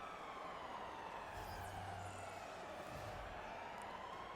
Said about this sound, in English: The sirens are going off in Washington.